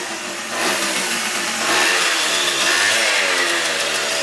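An old $100 scooter engine that sat unused for ten years runs at a steady idle, then rises a little in pitch. The engine note is close, continuous and fairly loud, with no talking.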